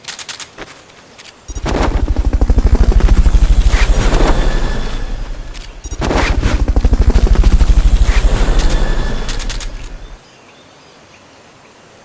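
Helicopter in the video game Metal Gear Solid: Peace Walker, a loud rapid rotor chop that swells in two long passes with sharp gunfire-like rattling, fading out near the end.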